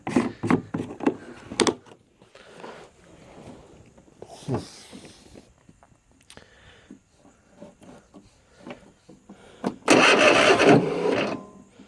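Starter on an abandoned Bad Boy zero-turn mower cranks in several short, rough bursts with pauses between and a door-like clunk, then a louder sustained grinding stretch near the end; the engine never catches.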